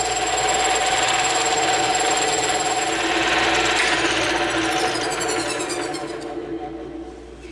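Bandsaw cutting a circle out of a 1.5-inch-thick slab of EVA foam, a continuous loud whirring blade hum with rasping cut noise, easing off toward the end as the cut finishes.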